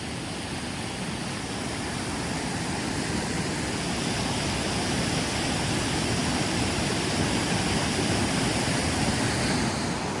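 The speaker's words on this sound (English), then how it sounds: "So this is a stream feeding the Nessewatinahunk." Continuous broadband rush of a stream flowing near a waterfall chute on the trail from Abol to Katahdin Stream Campground, steady and enveloping with no breaks or voices.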